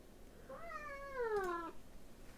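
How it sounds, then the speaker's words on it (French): A single drawn-out cat meow, clear and close, rising then sliding down in pitch over about a second, with quiet background otherwise. "Qu'est-ce que c'est que ce miaou?"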